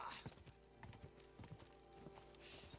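Horse hooves clop in Kingdom Come Deliverance II, a quick, uneven run of close hoof strikes over a low background hum, with a faint trace of a voice.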